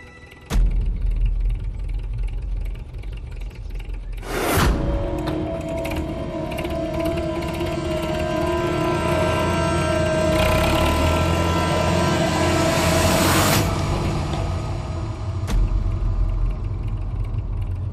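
A tractor engine runs steadily throughout, a loud mechanical rumble with rattling, ratchet-like clatter and a surge of louder revving in the middle, with no talk over it.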